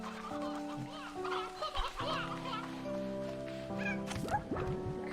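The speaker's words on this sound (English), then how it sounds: "I'm gonna pick up a whole bunch of chickens to bring with me to feed one of those guys" Chickens cluck in a few short, irregular bursts in the video game Slime Rancher, heard over steady game background music.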